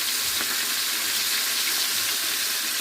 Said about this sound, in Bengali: ডিপ ফ্রাই করেই নিচ্ছি